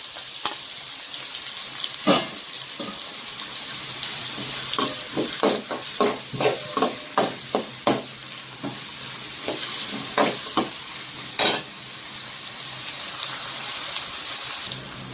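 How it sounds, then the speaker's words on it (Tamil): Chopped onions, green chillies and curry leaves sauté in hot oil for a fish gravy, giving a steady sizzle with a run of sharp spoon scrapes and stirring clicks against the pan, close by with no talk. "பச்சை மிளகாய், கருவேப்பிலை, அப்புறம் குட்டியாக கட் பண்ணி வச்சிருந்தோம் இல்லையா வெங்காயம், அதை போட்டு நல்லா வதக்கிடலாம்"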